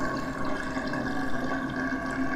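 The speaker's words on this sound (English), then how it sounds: "you certainly see the water drain out" Water drains from a bathroom sink through a newly replaced drain pipe, a soft steady gurgling rush with a faint swirling tone, heard close and alone.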